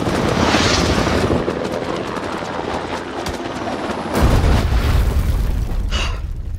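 Gunfire and explosions roar in House of Ashes as a helicopter comes under fire and goes down, heard as a dense, loud wash of battle noise with a heavy boom about two-thirds through.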